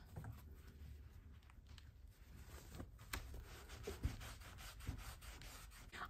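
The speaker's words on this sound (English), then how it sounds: "So we'll just take our already kind of dirty cloth and rub it in." A cloth rubbing cleaner into a leather belt, producing soft, close, steady scrubbing and brushing strokes with faint friction noise, quiet and without speech.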